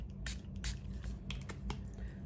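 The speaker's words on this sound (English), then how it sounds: "So I just spray it on here." A spray bottle misting water onto paper for watercolor painting, a few short soft hissing bursts in quick succession, close and quiet.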